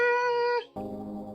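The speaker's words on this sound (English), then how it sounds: "I'm holding my cat to the microphone." Cat meowing straight into a microphone at close range, two loud drawn-out meows with a brief gap between them and no other sound.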